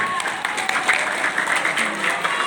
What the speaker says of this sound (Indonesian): Tepuk tangan untuk Sulawesi